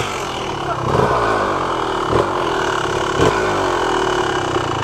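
A motorcycle engine revs on the throttle near a forest, a loud, steady mid-pitched drone that swells in three short bursts of acceleration.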